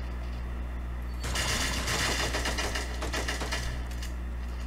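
Rapid gunfire rattles in the online shooter Cyber Hunter during a final match, bursts of fast automatic shots crackling for a few seconds over a low steady game hum, fairly faint and distant.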